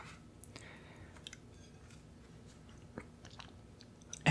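Close, soft chewing of a peanut butter and honey sandwich crust, with faint wet mouth sounds and a few small clicks in a quiet room, no talking.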